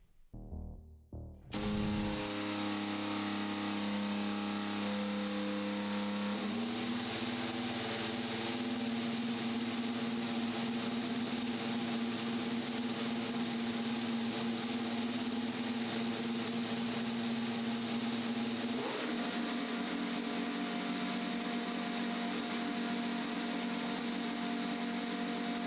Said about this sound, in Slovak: kde je počuť zvuk naštartovaného motora